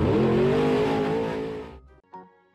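A car revs hard in the Car Eater video game, its engine roaring loudly at a rising pitch before cutting off abruptly, followed by a brief short clunk and a fading tail.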